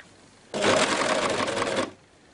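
An overlock sewing machine fitted with a gathering foot runs in one steady, close burst of about a second and a half, stitching two fabric layers and ruffling the lower one, with no talk.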